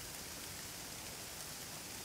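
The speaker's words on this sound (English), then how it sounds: "1 minute it's pouring with rain like this" Heavy tropical rain pours steadily in Singapore, a dense, even hiss of water with no break, faint and distant, without voices.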